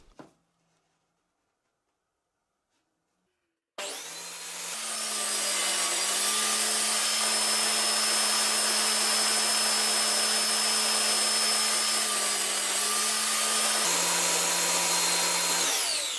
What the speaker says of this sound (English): So I use my table saw miter jig to miter cut a couple of wooden strips